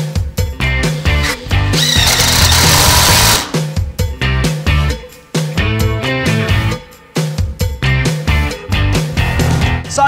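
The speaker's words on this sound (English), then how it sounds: "let's just whack a couple of screws in here" A power drill drives screws into a fixing plate on a timber frame wall for a concealed shower, with loud close bursts of whirring that stop and start repeatedly and one longer sustained run.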